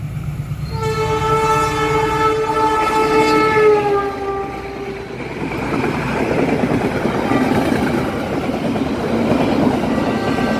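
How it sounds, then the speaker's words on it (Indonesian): The Harina passenger train passes straight through Sadang station without stopping. A loud, sustained multi-tone horn blast gives way to the heavy rumble and rattle of the cars rolling close by. "Kereta api Harina akan segera melintas langsung stasiun Sadang."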